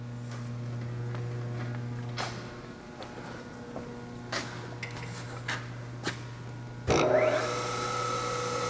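A Harig 6x18-inch ball way surface grinder, wired for 230-volt three-phase power, runs its spindle with a quiet, steady hum. Scattered light clicks and taps sound over it, then a louder clunk near the end.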